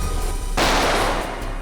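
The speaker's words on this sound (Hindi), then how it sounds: "हम लोग गोली की आवाज सुनकर बहुत डर गए थे" A single loud, close gunshot cracks out during a bank robbery inside a vault, with a sharp attack followed by a noisy burst that decays over about a second, and no voices.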